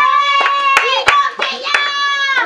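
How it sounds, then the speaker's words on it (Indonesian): Children clap their hands a few times in short, sharp bursts at a Tamiya car race prize-giving in a hobby shop, over a steady tonal background. "Tepuk sikit."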